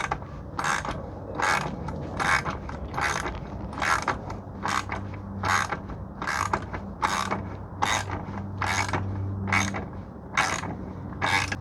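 A wrench ratchets over and over as SW-MOTECH engine guard bolts are tightened on a Honda Rebel 1100. Around a dozen evenly spaced metallic clicking strokes sound close and clear against a faint low hum.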